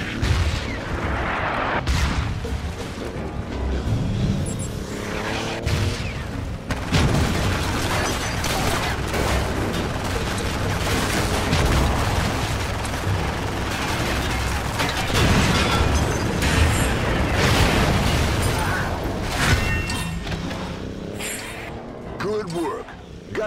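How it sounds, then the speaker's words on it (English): Mortar fire and explosions in the game Renegade Ops, with repeated loud booms and bursts over a constant roar of vehicle engines and gunfire, dense and close throughout. "Another mortar! Get rid of it!"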